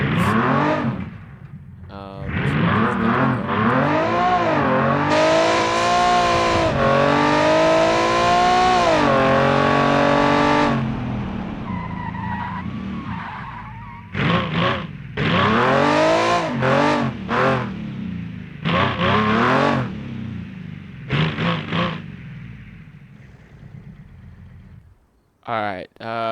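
A stock engine in the Automation car-building game revs hard, its pitch sweeping up and falling back through several loud, buzzy runs and short blips. Brief pauses fall between the runs, and someone talks over parts of it.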